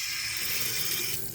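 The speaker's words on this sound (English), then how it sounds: "That's the self-heating faucet." A self-heating faucet in a camper van runs water in a steady close hiss into the sink, with no talk over it.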